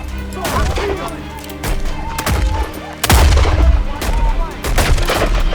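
Pistol gunfire during a shootout in an action western movie, several sharp loud shots cracking out in irregular bursts over a busy battle soundtrack with shouting voices.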